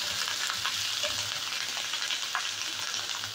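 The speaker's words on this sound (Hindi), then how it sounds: "अब इसको थोड़ा सा फ्राई करेंगे" Pieces frying in a pan with salt and chili soy sauce give a steady, close sizzle with faint stirring crackles and no voices.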